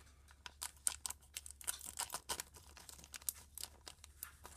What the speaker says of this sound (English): So first, you gotta cut all of this out.